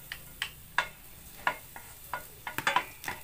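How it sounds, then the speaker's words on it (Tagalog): Garlic cloves drop into hot oil in a pan, making a series of short sharp crackles and spatters close by at an irregular pace, with nobody talking. "Pag mainit na, ilagay na natin ang ating bawang."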